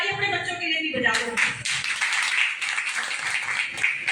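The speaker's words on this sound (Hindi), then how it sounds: "तो एक ताली अपने बच्चों के लिए भी बजा दो।" An audience at a weekly business meeting breaks into clapping, many hands applauding in a dense, sustained patter that starts after a speaker's brief words.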